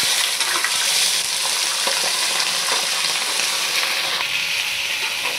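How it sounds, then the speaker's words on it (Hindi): Meat (gosht) fries with onions in a pan, a loud continuous sizzle with faint stirring scrapes throughout, close up and steady, with no talking. "पाँच मिनट तक गोश्त को फ्राई करेंगे"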